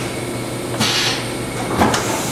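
A 2000 Daewoo DMV-400 APC vertical machining center with a Fanuc 18iM control and two-station rotary pallet changer runs a looped program, giving a steady mechanical hum broken by two distinct clunks.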